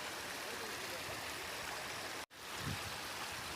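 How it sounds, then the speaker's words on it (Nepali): An artificial stream and waterfall in Qatar flows in a steady, broadband rush of water that continues throughout, with a brief cut partway through. "ल हेर्नु कतारको झर्ना आउने यही हो"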